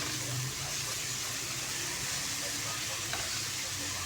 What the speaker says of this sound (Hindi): अब देखिए इसको हमने घी के अंदर ही फ्राई करना है